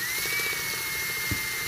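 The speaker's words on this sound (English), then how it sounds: "Okay, I put a larger drill bit." An electric drill fitted with a larger drill bit runs at a steady high whine under broad noise, close and constant, with a brief low knock near the end.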